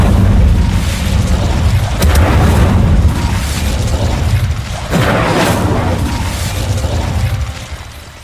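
Incendio fire spell cast in Hogwarts Legacy, deep booming bursts with whooshing roar, several heavy blasts in succession over a sustained loud rumble that fades slightly at the end.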